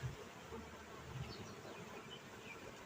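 Honeybees buzzing steadily around a hive, a faint, continuous hum of many insects with no voices.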